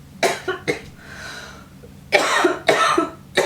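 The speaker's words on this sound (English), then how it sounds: "I'm going to start coughing again." Several harsh coughs close up, a couple of short ones followed by a longer, throaty burst of repeated coughing.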